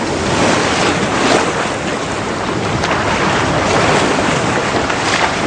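Ocean waves and open sea roll and wash continuously with steady surf noise and wind buffeting the microphone, loud and close throughout, no voices.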